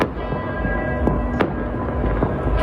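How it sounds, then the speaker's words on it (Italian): New Year's Eve fireworks burst in a dense, continuous crackle, with several sharper bangs standing out from the steady rumble of explosions. "I fuochi d'artificio sono una tradizione di Capodanno"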